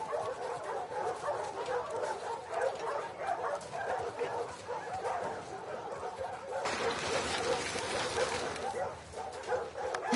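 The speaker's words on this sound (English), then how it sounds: "Hey, you crazy dog." Dog in The Last of Us Part II giving short yips, barks and whimpers, close and lively across a busy game soundscape, with voices talking over it.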